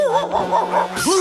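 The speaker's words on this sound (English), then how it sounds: "Dogs barked." A dog gives a rapid run of yipping, whining barks, close and loud, ending in a sharper bark, with no talk over it.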